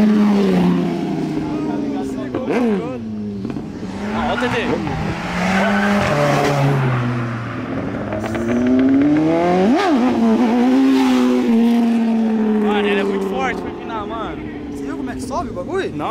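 A Yamaha XJ6 motorcycle engine revving hard during a wheelie, loud and close with repeated rising and falling pitch sweeps, while people talk and shout excitedly over it.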